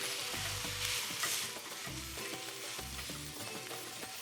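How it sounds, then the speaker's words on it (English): Ground beef browns and crumbles in a hot pan, a continuous close sizzle with repeated rhythmic scraping and thumping as a spatula breaks up the meat. "I'm going to cook all the ground beef together, crumbling it as I go"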